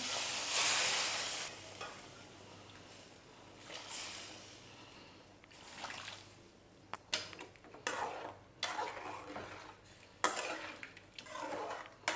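Boiling water is poured into semolina in a pan for rava pongal, giving a loud hiss and splash at first, then bubbling, sizzling, and a few clinks of a utensil.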